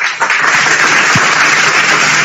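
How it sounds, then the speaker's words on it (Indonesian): An audience bursts into steady, dense clapping for a man at a religious discussion, loud and continuous throughout, with no talk over it. "Tepuk tangan dulu buat abang kita ini"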